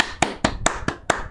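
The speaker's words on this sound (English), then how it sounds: "I've got to clap you from that" Six sharp, close hand claps in a steady, evenly spaced rhythm, each crisp and isolated with nothing else heard between them.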